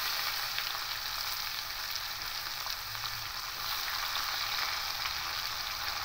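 Chopped onions hiss and crackle in hot oil with bay leaves and whole spices, a continuous dense close sizzle with no voices.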